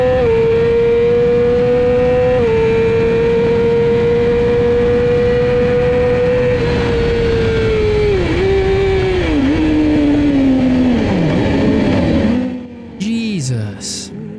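Racing motorcycle at an amateur CCS club race weekend, engine howling at high revs as it drives out of a corner onto the straight, loud and close, pitch climbing through gear changes before cutting off near the end.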